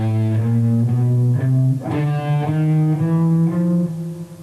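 An electric guitar plays a steady stream of sixteenth-note pick strokes, with every fourth note hit harder for an accent, sustained and loud with no voices.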